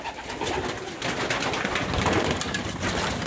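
Pigeons coo steadily in a pigeon loft, a dense, close chorus of overlapping throaty calls with no pauses.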